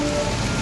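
Heavy rain pours in a mountain flood during a forest rescue, a dense, loud, continuous hiss of downpour with no gaps, close and enveloping.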